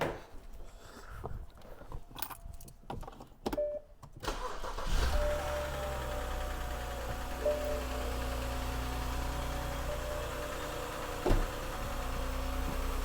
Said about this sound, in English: All right, start her up, Jason.